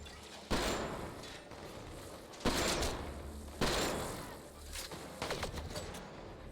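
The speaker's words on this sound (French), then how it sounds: "Attention, grenade!" Explosions and blasts from combat in the sci-fi video game Mass Effect Andromeda, with several loud broadband bursts spaced a second or two apart over steady battle noise, including a grenade detonation.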